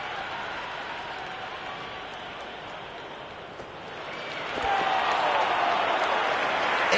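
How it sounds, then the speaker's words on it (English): A cricket stadium crowd in the video game Cricket 26 keeps up a broad, steady roar, then swells louder partway through as the noise rises around a close appeal, with no clear speech. "The crowd are on the edge of their seats."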